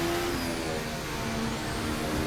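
A 2026 Formula 1 car's engine accelerating out of a slow section after dropping into fifth gear, a steady loud mid-pitched drone with rising harmonic whine, continuous and close with no talk.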